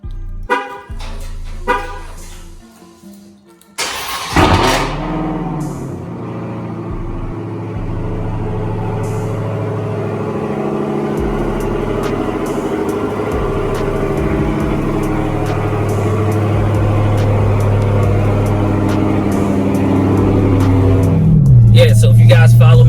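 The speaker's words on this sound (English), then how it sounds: "But I need that cold start action." A 2020 Dodge Charger Hellcat Widebody with a custom exhaust cold-starts with a sharp, loud bark after some brief knocks and clicks. It then settles into a deep, rumbling idle that holds steady and slowly swells, ending in a short rev near the end.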